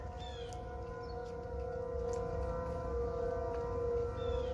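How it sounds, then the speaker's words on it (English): A distant 2001 model tornado siren sounds during a test, a steady faint wail held under broad outdoor background noise for the whole span. "I hear a 2001 siren over there."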